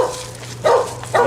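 Dogs barking in short bursts near a stone repointing job, two loud barks standing out against steady background noise.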